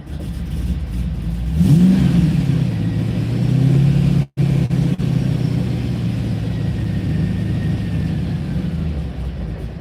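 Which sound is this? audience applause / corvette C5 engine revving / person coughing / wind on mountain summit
corvette C5 engine revving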